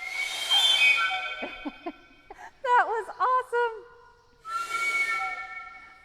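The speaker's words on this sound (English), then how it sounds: "that is a train whistle that she was blowing on for us there." Twiggy the elephant blows a train whistle with her trunk, giving a few short rising-and-falling shrill toots in the middle, framed by breathy hissing blasts before and after, with a brief spoken comment at the end.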